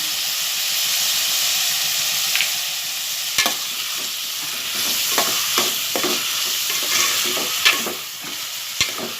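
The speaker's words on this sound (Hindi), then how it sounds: "प्याज गुलाबी होने तक अच्छी मैं इसे तलूंगी" Sliced onions fry in oil for birista with a loud, dense sizzle and hiss, broken by repeated scrapes and clacks of a spoon stirring the pan, close up with no voices.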